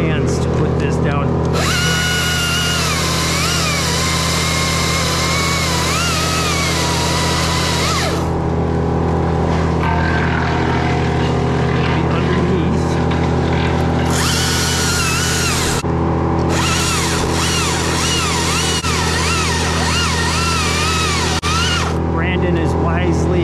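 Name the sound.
saw making a brake cut in an oak tree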